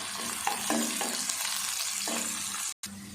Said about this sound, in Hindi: घी गरम हो गया, अब इसमें प्याज डाल देते हैं।